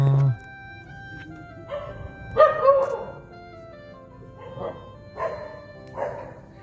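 A dog barks and yelps several times somewhat far off, irregular and moderately loud against a quiet background.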